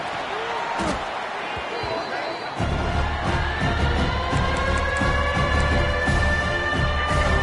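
A large stadium crowd at a college football game involving the Bearcats roars continuously, swelling louder partway through, while a commentator talks over the din.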